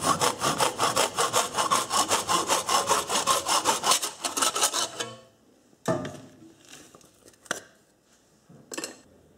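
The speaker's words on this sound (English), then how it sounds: "cut it with my hacksaw right now" A hacksaw cuts a toilet tank part in a shop: about five seconds of rapid, steady back-and-forth strokes up close, then a few scattered clunks and rubs in near silence.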